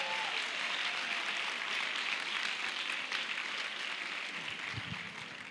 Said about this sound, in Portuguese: Uma salva de palmas para a equipe do CEL.